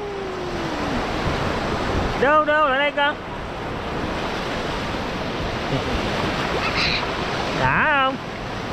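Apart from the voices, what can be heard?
sea waves on Long Hai beach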